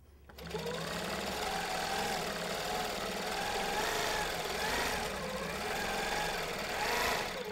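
A Handi Quilter Avante longarm quilting machine stitches steadily through fabric, a continuous close mechanical whir and rapid needle chatter with gentle speed swells, running alone for several seconds.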